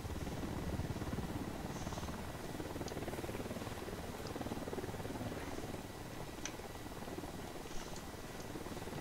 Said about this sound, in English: Chopper, stay low.